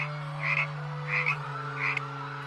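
A frog croaks three times at an even rhythm, each call a short rasping burst, over a steady low hum and with no voices.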